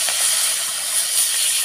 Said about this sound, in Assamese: মাছ ভাজি আছোঁ, মাছ দহি গ'ল